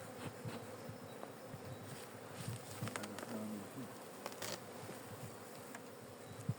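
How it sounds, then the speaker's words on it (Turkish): Soft buzzing of honey bees in a hive of mini frames drones continuously at low volume, with a few faint taps and rustles mixed in. "Kaç tane arı kaldı zaten."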